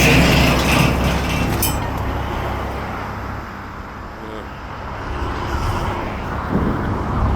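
A freight train of hoppers and box cars pulled by two locomotives passes at steady volume. A continuous low rumble is broken by metallic clinks and wheel clatter, close by and outdoors.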